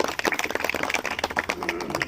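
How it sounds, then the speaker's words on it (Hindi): An audience claps at a motivational talk, a brief burst of scattered, uneven hand claps that fills the room for a couple of seconds. "सभी लोग सुन रहे हैं तो तालियां बजाइए"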